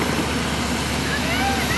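Inside an airplane cabin, a steady loud engine drone hums without a break, dense and even throughout with no distinct events.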